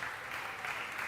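A church congregation applauding together, steady dense clapping that fills the space for the whole moment with no voices over it.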